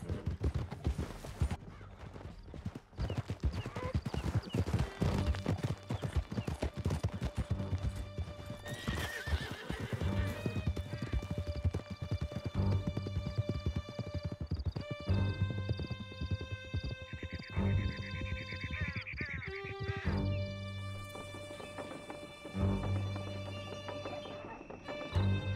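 A horse ridden in the open-world game Red Dead Redemption 2 sends out steady hoof clip-clops with a whinny, set among game music and ambience with other sounds layered over the loud, continuous trotting.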